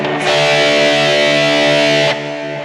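A single sustained, heavily distorted electric guitar note with reverb rings out loud, then cuts to a softer fading tail.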